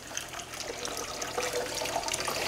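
Tap water runs steadily over rice being rinsed in a kitchen, a close, continuous splashing flow that grows slightly louder toward the end, with no talking.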